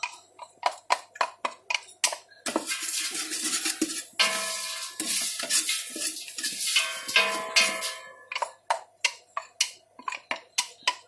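Garlic and chili hit a hot, smoking pan for carrot chutney, giving a loud sustained sizzle with clinks of a utensil on the pan before and after.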